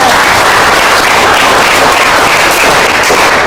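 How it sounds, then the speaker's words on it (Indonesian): Classroom applause fills the space, dense and loud, with many hands clapping continuously and evenly for a few seconds and no voices over it. "kasih tepuk tangan"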